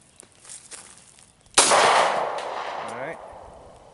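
A single sharp, loud shot from a 1911 pistol firing factory ammunition cracks outdoors and rings off into a fading echo, preceded by faint shuffling.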